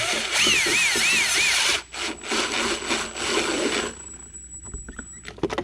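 An impact driver snugs screws into a plastic Kemimoto tablet holder on a Can-Am X3, giving close, loud whirring bursts with a wavering pitch. Quieter handling and rattling sounds follow.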